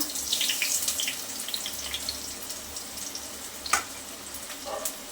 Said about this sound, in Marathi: तेल छान गरम झालं त्याच्यामध्ये घालायचं आहे कट केलेला कांदा